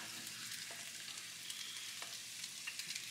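Meat frying in a pan gives a steady, soft sizzle with scattered crackles and pops, heard close and alone without talk.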